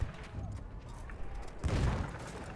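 Gunfire in Battlefield 1, a loud burst of shots near the end over the low rumble of combat, with someone talking briefly in the first part.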